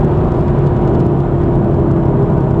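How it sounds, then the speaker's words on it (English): A 2022 Audi RS3 engine pulls hard on the road through a sequence of bends, giving a loud, steady roar with continuous drone and road rumble throughout and no voices. "Listen to that engine."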